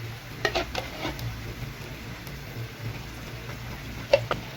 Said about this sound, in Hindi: और थोड़ी सारी इसमें क्रीम डाल देंगे। फिर इसको मिक्स कर देंगे।